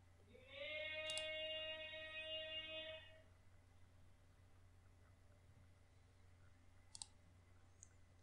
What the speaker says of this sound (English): Now again go to this page and again click on this link.